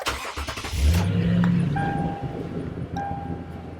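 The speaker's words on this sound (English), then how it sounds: "I'm going to turn on the truck first" A pickup truck's engine turns over and settles into a steady low idle, a loud starter burst giving way to a continuous rumble with faint tonal whine.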